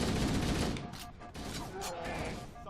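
Assault rifle fire in the Halo video game rattles in a dense, loud burst at the start, then breaks into scattered shots and fainter background firing.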